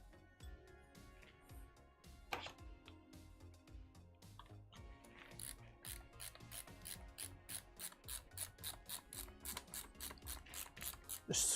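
Small 4-40 screws are driven by hand into a 3D-printed Nerf blaster, giving faint, close ratcheting clicks that turn into a steady, quickening rhythm of repeated strokes in the second half.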